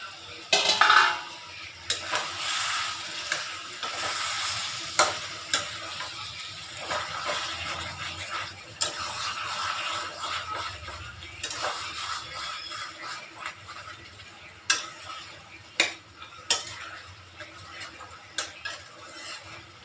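Meat coated in yogurt and spices being stirred and braised (kosha) in a pan, with repeated scraping clinks of a spatula against metal and a soft sizzle between strokes, close and irregular, without speech.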